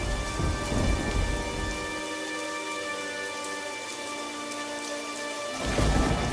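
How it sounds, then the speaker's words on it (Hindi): Heavy rain pours down with rolling thunder in a cartoon storm, a steady loud roar that swells again at the end, with no voices. "अचानक से जोर का तूफान आया"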